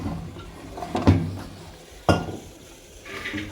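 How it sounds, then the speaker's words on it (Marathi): A metal pressure cooker is lifted off a kitchen gas stove and set aside, giving two sharp metallic clanks about a second apart amid lighter clinks. "सो आता कुकर झालाय, तर मी ना काढून एका साईडला ठेवते."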